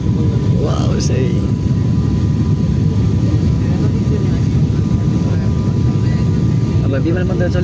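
Steady, loud engine and air roar inside an airplane cabin in flight, a constant low rumble filling the whole stretch, with faint voices briefly audible beneath it.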